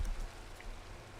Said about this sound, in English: It's raining, I know.